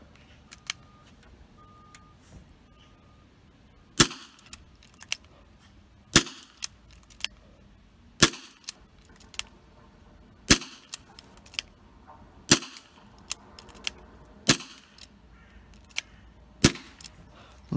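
A Dan Wesson 2.5-inch airsoft revolver fires plastic BBs in sharp, loud single cracks at intervals of about two seconds, eight shots in all, each followed by faint mechanical clicks of the cylinder turning, close to the listener.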